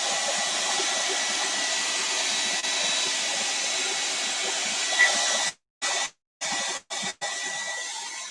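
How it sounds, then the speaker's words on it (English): A hair dryer blows with a steady, loud broadband roar close by, cutting out abruptly several times near the end with brief silent gaps before resuming. "I don't know if you can hear me with the hair dryer."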